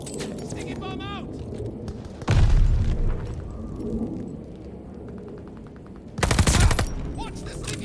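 A sticky bomb detonates amid gunfire in Call of Duty Vanguard: two heavy booming blasts land a few seconds apart, with rapid gunshots and game voices in between.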